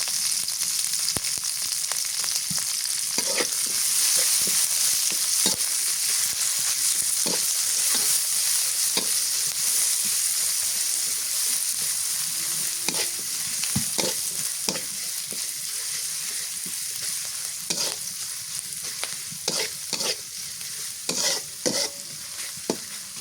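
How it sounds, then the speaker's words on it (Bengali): Chopped onions and green chillies fry in oil with bay leaves and cloves. A loud, constant sizzle fills all 23 seconds, punctuated by irregular scraping strokes of a spatula stirring the pan, with no talking. "পেঁয়াজ মরিচ ভাজা হয়ে গেছে"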